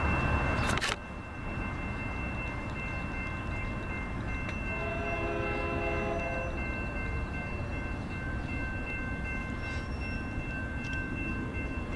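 Three-car commuter train with two locomotives approaching a station, sounding a steady multi-tone horn blast midway over a constant rumble of wheels and engines, heard from trackside at moderate distance.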